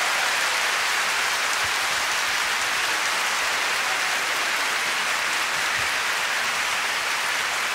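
Large concert audience at a show bursting into sustained, dense applause, a loud steady wash of clapping with no talking over it.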